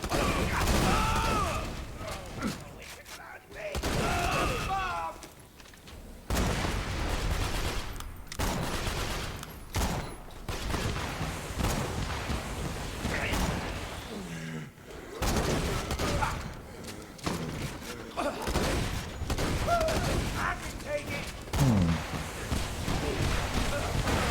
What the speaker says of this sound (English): So this Torgue shotgun up close is better.